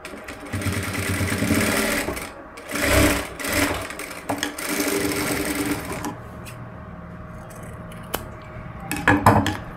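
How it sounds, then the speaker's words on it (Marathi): Scissors snip away loose threads on a blouse at a sewing machine, short sharp cuts standing out between stretches of mechanical whirring and clatter, close and fairly quiet with no talking. "आता एक्स्ट्राचे काय धागे असतील ते कट करायचे"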